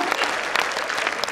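Brief burst of loud, dense applause from the audience at a Hindi comedy poetry show, steady clapping with no pauses.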